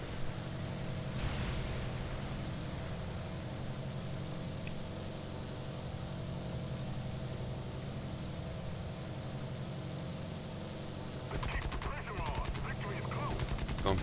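Aircraft machine guns firing during a strafing run in the War Thunder air combat game: steady, dense rattling gunfire under a constant engine drone, with a sharper burst near the end.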